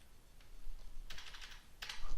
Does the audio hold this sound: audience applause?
no